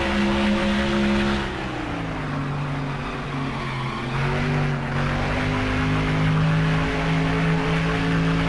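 Race car engine on a practice lap in the NASCAR Thunder 2004 video game, a loud steady drone with shifting pitch as the car accelerates and backs off through corners, heard alone for over eight seconds.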